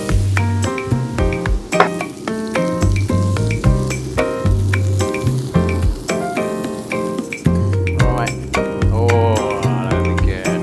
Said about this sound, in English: So I'm just gonna roast a load of vegetables